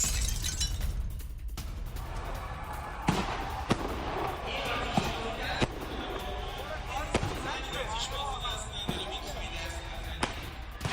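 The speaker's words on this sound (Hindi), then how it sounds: "तेहरान में जबरदस्त आतिशबाजी हो रही है।" Fireworks go off in Palestine Square, Tehran: scattered sharp bangs and pops at irregular intervals over a noisy crowd ambience, with voices talking underneath.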